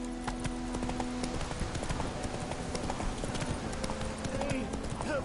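Roach, a horse in The Witcher 3, runs with quick, rhythmic hoofbeats that continue throughout, while a brief voice is heard in the background.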